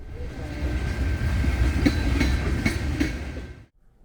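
A Norfolk Southern freight train rolls past outdoors near Birmingham, Alabama, with a steady rumble and rhythmic clickety-clack from its wheels. The noise stays fairly loud and then cuts off abruptly near the end.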